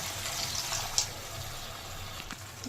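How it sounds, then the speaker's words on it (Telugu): Tamarind broth is poured into an egg and dried prawn curry, giving a steady close liquid rush with a faint splash partway through and no voices. "ఇప్పుడు పులుసు వేసేస్తున్నాను"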